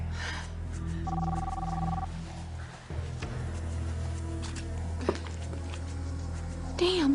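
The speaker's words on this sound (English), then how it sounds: "It's ringing." A telephone rings in a steady repeating tone through a dim room background, with faint voices and small noises around it, fairly close and moderately loud.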